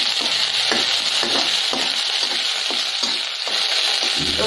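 Garlic sizzles in hot oil in a pan, a steady loud frying hiss with occasional stirring scrapes.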